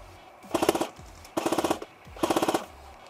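Airsoft gun fired from the hip during an outdoor urban combat scenario game: three quick bursts of rapid clattering shots, each about half a second long, close and sharp with short pauses between.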